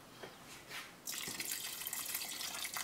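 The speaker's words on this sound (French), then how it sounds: "je pense que je dois ajouter un peu d'eau" Water splashes steadily into a pot of plantain and bean stew, a soft trickle first and then a continuous hissing pour that lasts a couple of seconds, close and fairly quiet.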